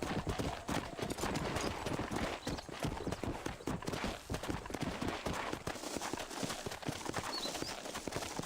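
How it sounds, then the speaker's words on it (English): Horse hooves gallop in fast, steady clip-clop through Red Dead Redemption, loud and close, with a continuous rapid rhythm filling the whole stretch and faint extra game noise underneath. "Ya estamos que el caballo no frena."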